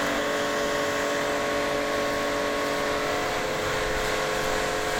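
An affordable pressure washer for bikes and cars sprays water at strong pressure, producing a steady, loud motor hum and hiss that runs unbroken throughout.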